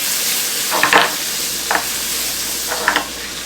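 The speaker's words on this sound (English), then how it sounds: "Stir that one in as well." Ground nutmeg and cinnamon stirred into a pot of stovetop candied yams, a few soft scraping strokes of the spoon over a steady low sizzle, with no talking.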